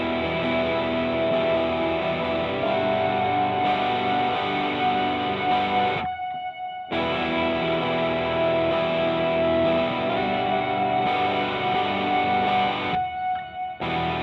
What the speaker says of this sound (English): here's the guitar, again using the Manson, using the Sustainiac